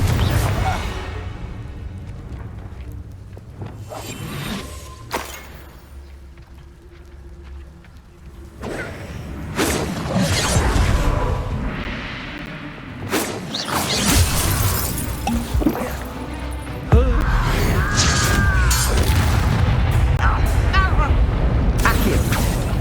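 Confringo blasting curse explosions in Hogwarts Legacy on PC, loud bursts and whooshing impacts amid combat effects, with a voice speaking over parts of the fight.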